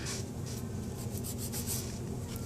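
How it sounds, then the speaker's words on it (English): A fine-grit nail file rasps lightly against a natural nail around the cuticles, in quick soft back-and-forth strokes, faint and close. "just kind of rough up the natural nail just a little bit, which is another reason why I'm using such a fine grit file"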